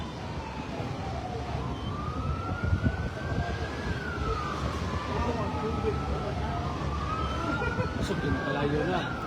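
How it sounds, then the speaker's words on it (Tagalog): A fire truck's wailing siren sweeps up and down continuously under steady road traffic noise in Dumaguete during a fire, with voices chattering nearby throughout. "Fire truck."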